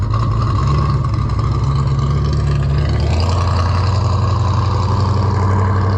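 A loud, noisy car passes close by at a car club show, its engine roaring steadily with a shift in pitch midway as it goes by, dominating everything else.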